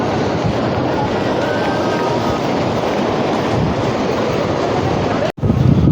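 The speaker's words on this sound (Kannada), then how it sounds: "ನೋಡ್ರಿ ಸಮುದ್ರದ ಸೌಂಡ್ ಕೇಳ್ರಿ ನೀವು" Sea waves wash continuously at Murdeshwara beach, a loud broadband roar of surf close by with gusty wind buffeting the microphone, and a brief dropout near the end.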